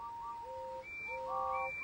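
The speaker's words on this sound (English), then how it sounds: "And all the engines tooted." Toy train engines toot short whistles, a few clear high tones overlapping in quick succession, close and fairly soft against a quiet background.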